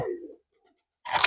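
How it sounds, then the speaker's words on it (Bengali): A soft, low pigeon coo sounds briefly, followed by a short silence and then a burst of rustling noise. "এই যে পায়রা।"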